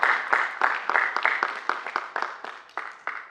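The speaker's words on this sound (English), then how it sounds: "So give yourselves a round of applause for being here at KITFO Film Festival." An audience at the KITFO Film Festival in Los Angeles claps for a few seconds, the applause fairly faint and slowly fading.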